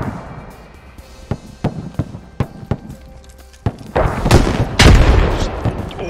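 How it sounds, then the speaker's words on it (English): Combat gunfire and blasts in the military shooter Squad near an RPG-armed vehicle fight: a rhythmic series of sharp shots, then a heavier booming explosion rumbling out near the end. "Yeah, it's RPG."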